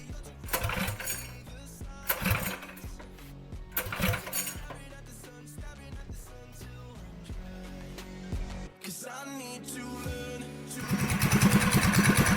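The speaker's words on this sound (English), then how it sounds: "it's time for the first start of the motor" A full-suspension Mega Moto 80/105 minibike engine is cranked repeatedly, with clattering, uneven bursts and mechanical rattles, until it catches near the end and settles into a loud, steady running roar close by.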